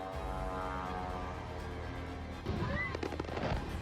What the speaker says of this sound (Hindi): मॉस्को में ड्रोन अटैक के बाद धमाकों की आवाज लगातार गूंज रही है।